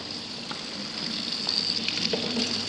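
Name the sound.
tap running, waiting for hot water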